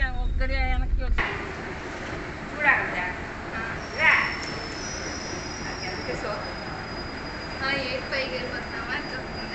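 Rumbling train noise fills a busy station, with a couple of brief clunks and people talking nearby.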